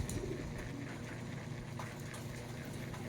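Old racing pigeons coo softly and repeatedly in a loft, faint low murmuring over a constant background hum.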